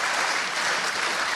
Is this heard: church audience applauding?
yes